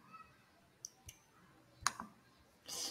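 Computer mouse clicks in a quiet room: a few faint, sharp, isolated clicks spaced irregularly, followed by a brief louder burst of noise at the end.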